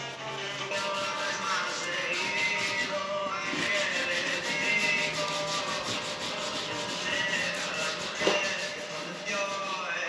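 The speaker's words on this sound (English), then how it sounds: "Sandpaper did its thing." Sandpaper rubbing plastic dip off Honda Accord alloy wheels, including the inner area by the hub, making a steady close scratchy scrubbing that runs continuously with slight swells and a brief knock near the end, with no talk.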